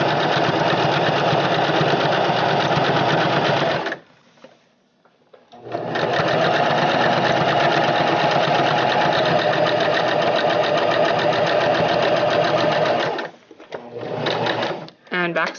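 A sewing machine runs in long steady bursts while back stitching a thick duck pillow, loud and close, with a pause near four seconds and choppy short runs toward the end.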